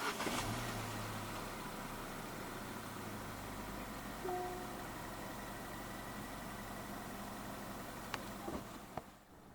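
A 2024 Jaecoo J7 1.6 turbo 2WD car idles steadily after a push-button start, with a low, even engine hum running throughout and a few faint clicks near the end.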